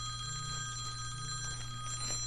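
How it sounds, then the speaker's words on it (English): Phone ringing with a steady electronic ring tone that repeats in short pulses over a constant background hum, fairly close and without any talk. "I had to pause for a second because my phone rang"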